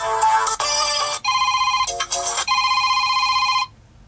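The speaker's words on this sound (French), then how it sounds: "On va essayer de trouver s'il y a un petit dring" A Zopo Speed 7 Plus smartphone plays a bright electronic ringtone, a series of tonal chimes in short bursts with brief gaps, clear and alone before stopping abruptly.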